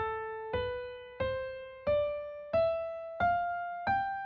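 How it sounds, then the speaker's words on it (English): Seven single notes of a Mixolydian mode scale are played one at a time in steady ascending steps, each struck cleanly and left to decay before the next. "Mixolydian sounds like this."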